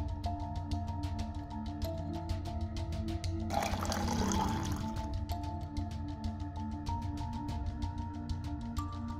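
Drinking water is poured into a vessel in a brief splashing burst partway through, set against a steady background hum and ticking, with no talk.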